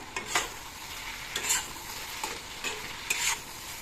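Food sizzles in a hot pan over a flame while a spoon scrapes and stirs it in short, periodic strokes, fairly close and quiet, with no talking.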